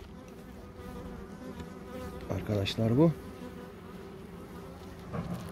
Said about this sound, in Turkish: Geride kalan arı.